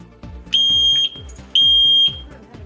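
A smoke alarm sounds two loud, piercing beeps, each about half a second long, over a low background hum.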